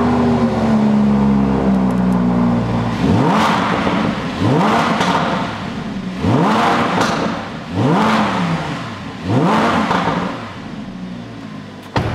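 A Ferrari Testarossa engine revs hard in five repeated bursts, each one climbing sharply in pitch and then falling back, loud and close with brief idle gaps between.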